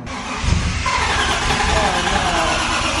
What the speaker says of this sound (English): We're gonna start it with the new exhaust for Nicole.